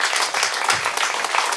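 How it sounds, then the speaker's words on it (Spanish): Audience applause for an artist at a talk, a dense burst of many hands clapping, steady and fairly loud throughout the short moment. "Un aplauso grande al artista, por favor"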